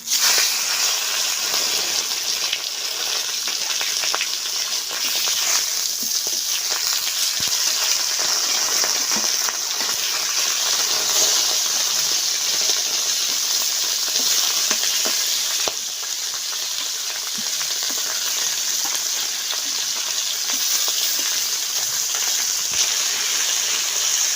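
Fish frying in mustard oil in a kadai gives off a steady, dense sizzle and crackle, close and fairly loud, with occasional spits and small pops running unbroken for a long stretch.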